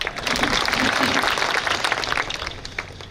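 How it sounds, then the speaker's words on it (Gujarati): Audience applause at a political rally in Rajula, a dense burst of clapping from a large crowd filling the space, steady and loud before thinning slightly toward the end, with some voices mixed in. "તાળી પાડો."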